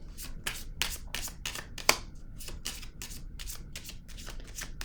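Tarot cards shuffled and handled close up, a rhythmic run of crisp flicking riffles about twice per second with one sharper snap partway through, alone without speech.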